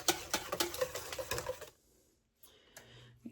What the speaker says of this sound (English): I'm supposed to whisk this until it's smooth and there are no lumps left